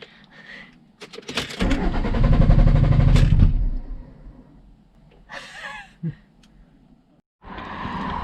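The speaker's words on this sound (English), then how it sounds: "Starting up the engine" A van engine cranks, catches and roars loudly for a couple of seconds before settling, with clicks and brief rustling afterward.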